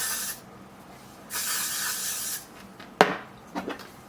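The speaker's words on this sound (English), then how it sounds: "I'm going to go ahead and spray the sides here" Two bursts of hairspray hiss from an aerosol can onto the sides of the hair, each about a second long and close, followed by soft brushing and rubbing sounds.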